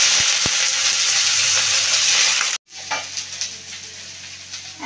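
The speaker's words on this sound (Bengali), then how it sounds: "দিয়ে এবার চিচিঙ্গাটাকে এর মধ্যে দিয়ে দেবো।" Snake gourd drops into hot oil tempered with nigella seeds and a dried chilli, setting off a loud close sizzle that cuts out sharply midway, then returns as quieter crackling frying.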